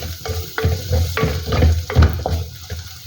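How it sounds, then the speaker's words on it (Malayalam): Pepper powder and spices sauté in a pan with a soft sizzle, repeatedly stirred so that rhythmic scraping strokes land about every half second, close up and with no talking. "ഇനി ഇതെല്ലാം കൂടെ ഒന്ന് ചെറുതായിട്ടൊന്ന് വഴറ്റും."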